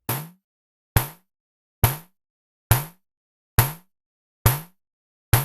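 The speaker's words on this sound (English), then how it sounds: "On the right, it adds gain and implements a hard clipper, making the sound more punchy like this." Seven sharp, evenly spaced drum hits come from a Bastl Pizza Crust module with its hard clipper and added gain, each a punchy, bright attack that decays quickly into silence.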